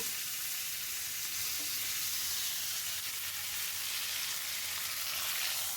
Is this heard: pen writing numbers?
no